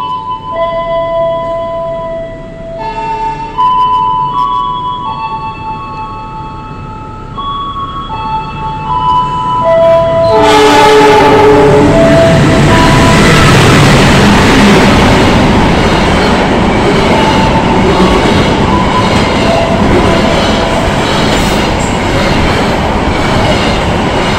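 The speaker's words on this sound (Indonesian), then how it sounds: "Nah ini kereta api Purwojaya persiapan melintas stasiun Jatibarang, nyusul Tegalbahari." The Purwojaya passenger train passes Jatibarang station, with tonal notes at first, then a loud, sustained roar of rolling wheels and carriages that holds steady to the end.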